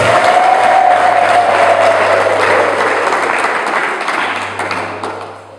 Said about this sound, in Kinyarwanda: mwahaye amashyi Yesu wacu